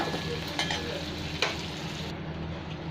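Hot oil sizzling in a wok after fried pointed gourd is lifted out, a steady close hiss with a couple of brief stirring scrapes.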